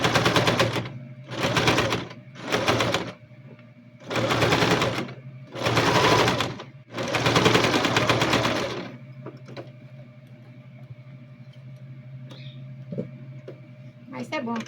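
A home sewing machine stitching a seam on a children's backpack runs in six rapid bursts separated by short pauses, loud and close, then gives way to quieter handling noises and a steady hum.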